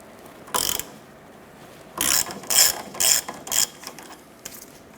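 A 17mm socket and ratchet loosens a control arm nut on a 2008-2012 Honda Accord, giving one short burst of clicking followed by four quick ratcheting bursts, close and fairly loud with no talk.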